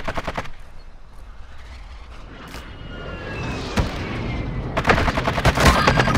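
Sniper fire in a Call of Duty: Modern Warfare 2 match: a few sharp cracking shots and rapid bursts ring out, with a dense loud volley near the end and little talk.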